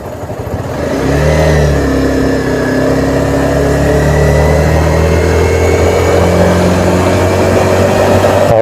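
A motorcycle engine drones steadily as the bike rides along a canal-side road, rising from a quieter start into a loud, sustained mid-pitched hum with wind noise and no talking.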